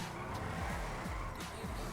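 Tires squealing as a Drift Tampa slides sideways while drifting in GTA Online, a continuous scrubbing skid under engine drone, fairly faint and steady throughout.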